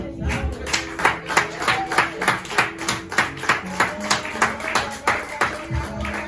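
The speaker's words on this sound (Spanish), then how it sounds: "sería bueno aplaudirle al Señor" A church congregation claps in a steady rhythmic beat during worship, roughly two claps per second, moderately close, with a voice and musical tones sounding underneath.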